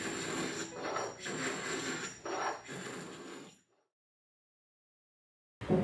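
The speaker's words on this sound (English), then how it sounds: "I did finish scraping all the varnish off the cap rail" Varnish being scraped from a wooden boat cap rail with a hand scraper, a run of rough rasping strokes in close succession that stops abruptly into silence before a brief loud noise at the end.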